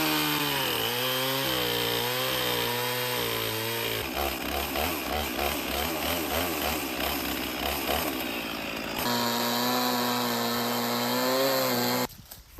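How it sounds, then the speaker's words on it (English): A chainsaw roars steadily, its pitch rising and dipping as it cuts knots off a log, loud and close for about twelve seconds before cutting off abruptly. "I probably gotta get the chainsaw over here and cut some of these little knots off."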